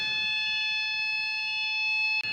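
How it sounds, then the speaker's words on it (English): An indoor fire alarm test sounds as a loud, steady electronic tone with piercing harmonics, holding continuously for about two seconds before a brief dropout. No voices. "Every now and again, they do a fire alarm test"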